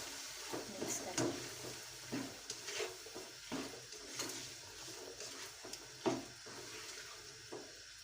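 Spices, including crushed red chilli and chilli powder, fry in a pan for chana pulao with a soft, low sizzle. Irregular scraping strokes from stirring come at intervals, all fairly faint and close.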